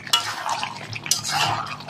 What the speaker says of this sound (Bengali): এবার নেড়ে চেড়ে ভালো করে কষে নেব।